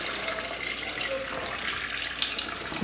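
Water poured from a tap over soaked white chickpeas in a kitchen, a steady close splashing rush that runs unbroken for a few seconds with no talk.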